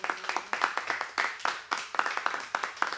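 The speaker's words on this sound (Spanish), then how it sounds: "¿Le puede dar un fuerte aplauso al Señor?" Church congregation gives a strong round of applause during a service, distinct hand claps in a brisk, slightly ragged rhythm, fairly close and clear, with faint voices mixed in.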